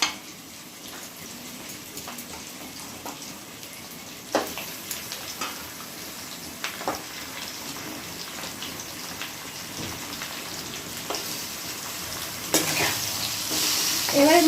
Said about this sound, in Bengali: ওর মধ্যে আমি ধুয়ে রাখা মাটনটা দিয়ে দিলাম।